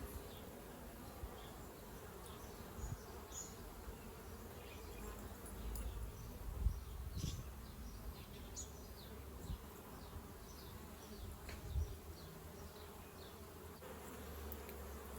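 Honey bees buzzing continuously around a hive frame from a swarm colony, a steady, close, moderately quiet drone with individual bees passing nearby.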